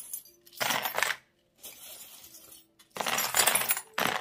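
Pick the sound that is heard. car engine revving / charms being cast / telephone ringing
charms being cast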